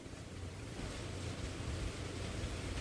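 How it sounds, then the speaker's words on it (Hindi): Heavy overnight rain falls outside a house, a constant broadband hiss and rush, steady and fairly quiet with a low rumbling undertone and no voices. "बारिश अभी भी हो रही है,"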